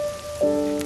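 Steady rain falls outside a window, a soft continuous patter lasting under a second, overlaid by a sustained tonal sound from music or a hum.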